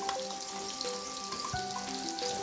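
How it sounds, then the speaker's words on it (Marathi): Ground masala paste fries in a little hot oil while prawn masala is being made, a soft steady sizzle with faint scraping, quiet and close. "थोडं तेल सुटेपर्यंत हे परतून घ्यायचं आहे"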